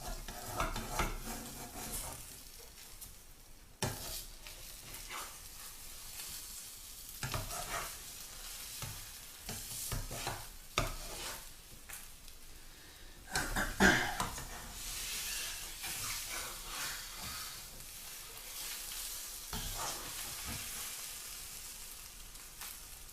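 A six-egg omelette frying in a pan gives off a continuous sizzle, with scattered clinks and scrapes of a utensil against the pan over a long stretch and no talking.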